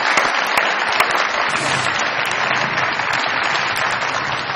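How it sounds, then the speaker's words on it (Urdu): A studio audience at a Pakistani comedy show applauds, dense sustained clapping at steady loudness throughout with no speech over it. "بہت ساری تالیاں بجائیے."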